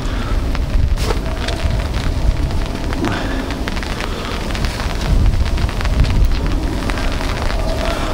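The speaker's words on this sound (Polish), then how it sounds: "Znów zaczyna padać." Rain falling outdoors at a fishing spot on the water near Połaniec, a steady close hiss of drops on surfaces with scattered sharper patters, no talking.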